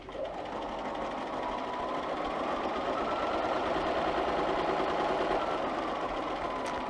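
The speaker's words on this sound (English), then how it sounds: "I am going to just start sewing" A sewing machine stitches fabric squares together along a seam in a steady, continuous whirring hum with rapid needle clatter, close and uninterrupted, no speech.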